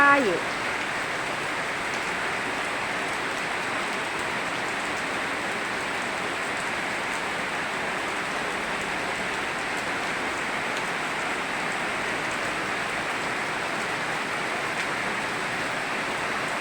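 Heavy rain pours down in a steady, loud, unbroken hiss that stays even from start to finish, with no other sounds standing out.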